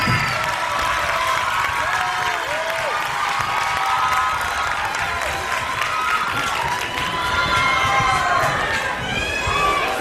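Audience at a live beatbox battle applauding and cheering for beatboxer Corentin, a dense, steady wash of clapping with shouts and crowd chatter throughout, no lulls.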